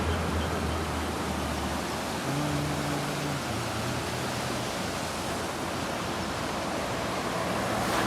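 A river flows in a continuous broad rushing wash, steady and loud throughout, with a faint low hum mixed in.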